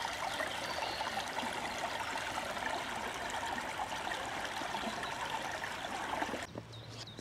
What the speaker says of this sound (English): The gurgling of the brook next to your resting place.